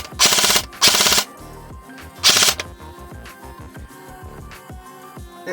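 A Double Eagle M904G airsoft gun fires on full auto in three loud, close bursts, two quick ones back to back and a third after a pause, with mechanical clicks and handling noise in between.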